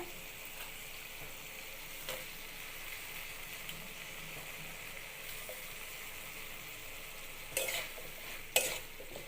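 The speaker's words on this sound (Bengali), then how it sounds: "মশলাটা ভালোভাবে কষিয়ে নিয়েছি এবার দিয়ে দেব সজনে ডাটা" Moringa drumstick stems go into a spice masala of chili powder, coriander powder and salt frying in a pan. A faint, steady sizzle runs throughout, with a couple of brief clattering knocks near the end.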